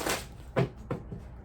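A thin tarot deck being shuffled by hand, a few short papery riffles and slaps spaced irregularly, close and fairly quiet, with no talking.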